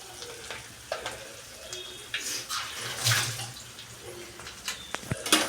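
Chopped vegetables hiss and sizzle in a hot pan while homemade noodles are being cooked, a moderate crackling wash with a few clinks and scrapes scattered through.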